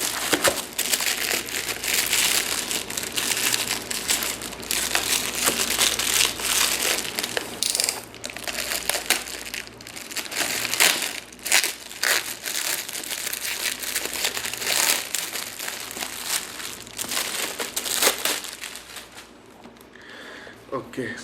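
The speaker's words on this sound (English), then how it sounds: "let's just remove this plastic." Crinkly plastic wrapping peeled off a Bluedio BS-3 Camel Bluetooth speaker, close and busy crackling and crumpling that continues for about twenty seconds before tapering off.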